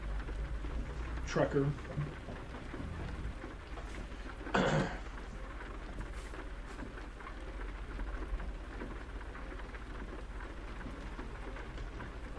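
Heavy rain pours steadily on a truck cab, a constant wash of drumming drops with low rumbling underneath, while someone speaks briefly over it and a couple of short noises break through.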